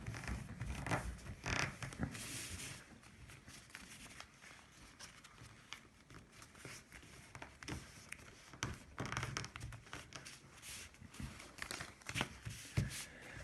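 Sheet of paper being creased and folded into a paper boat, with soft crinkling, rustling and sharp creasing swipes repeating close up throughout, no voices.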